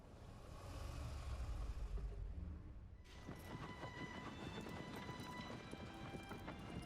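Horse hooves clip-clop steadily in a video game, a dense, continuous trotting patter that holds throughout at a moderate, close level with no talk over it.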